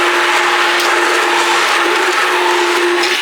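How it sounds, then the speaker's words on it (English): An immersion blender purees strawberries with lemon juice in one loud, steady whir that holds a constant droning pitch from start to finish, close to the listener, with no other sound. "I'm just going to give it another quick blitz."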